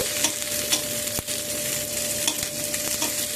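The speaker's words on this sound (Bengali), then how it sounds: "একসাথে বেগুন আর সিমটাকে আমি ভেজে নেব।" Eggplant and flat beans fry together in hot oil, giving a steady close sizzle with occasional scrapes and knocks from stirring.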